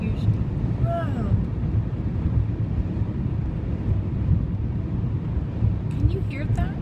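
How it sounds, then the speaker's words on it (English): Strong gusting wind in a winter windstorm with drifting snow, a loud steady buffeting roar against the microphone, with a person speaking over it. "the wind is blowing me off the road"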